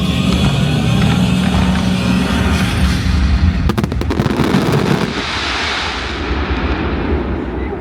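Fireworks display at Alton Towers on the park's final day of the season: a loud, continuous roar of bursts and crackling from the crowd's vantage, with a dense volley of sharp bangs midway before the barrage thins into a rumbling wash.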